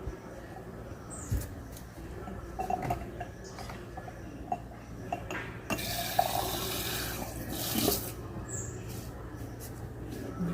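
Filtered water from a home water filter runs from a tap in a soft, continuous trickle, fairly quiet, with small clicks and a louder gush partway through.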